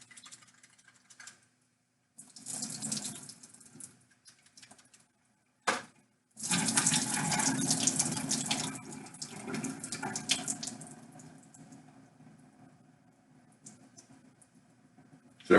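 Water runs from a kitchen tap over canned beans for rinsing, starting in short bursts and then flowing in a loud, steady gush that tapers off, with brief clatters between the bursts.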